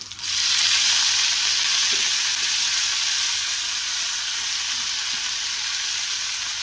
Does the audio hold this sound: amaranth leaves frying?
yes